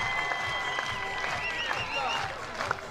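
Softball crowd cheering and applauding after a stand-up RBI double at a college game, Florida versus Mercer, with a steady roar of clapping and voices throughout and a broadcast commentator talking over it.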